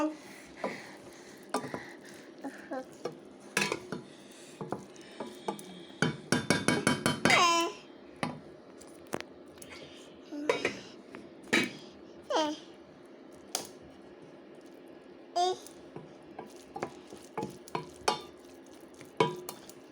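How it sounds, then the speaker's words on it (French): Rice and vegetables are stirred in a pan, with irregular scraping and clattering strokes, a flurry of quick scrapes midway, over a faint sizzle. "je vais procéder au mélange"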